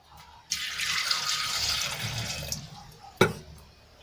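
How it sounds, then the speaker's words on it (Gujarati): Water pours steadily into a pressure cooker for about two seconds, then fades, followed by a brief sharp clatter near the end. "અને એમાં આપણે એક ગ્લાસ જેટલું પાણી એડ કરી લઈશું"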